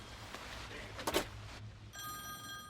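A phone booth telephone rings in the video game Sunset Overdrive, with a bright electronic bell tone starting after a short burst of game noise and sounding clearly on its own.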